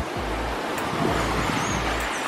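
Ocean waves roll onto the beach at Toco, Trinidad, a continuous loud surf wash with gusty wind buffeting the microphone and no voices.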